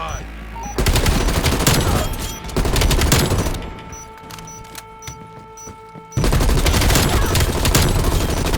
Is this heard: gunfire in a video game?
yes